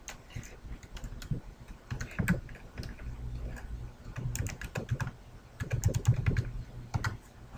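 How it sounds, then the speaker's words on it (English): An email address being typed on a computer keyboard, with steady bursts of close, crisp key clicks in uneven runs and brief pauses, no voices. "Type in your email address."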